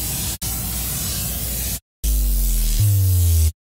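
A synthesized sub bass with added noise plays in FL Studio as loud noisy bursts cut by brief silences, then a deep sustained bass tone with a stepped pitch change before it stops abruptly.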